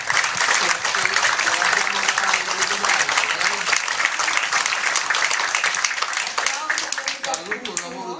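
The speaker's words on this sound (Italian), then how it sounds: "E ci vuole un applauso." An audience applauds warmly at an Italian book presentation in a conference hall, a dense, steady clapping that fills the room for several seconds while a voice speaks over it.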